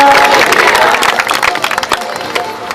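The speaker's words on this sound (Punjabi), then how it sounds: "ਤਾੜੀ ਮਾਰੋ ਜ਼ੋਰ ਦੀ" A congregation at a night prayer meeting claps loudly, a dense burst of many hands with crowd voices that thins into scattered, uneven claps toward the end.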